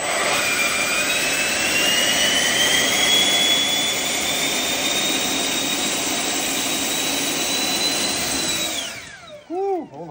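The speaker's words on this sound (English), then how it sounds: "I'm only running one motor for a lift test" A single electric motor whines steadily at high pitch for a lift test, its tone climbing slightly and holding loud and close before spinning down abruptly near the end.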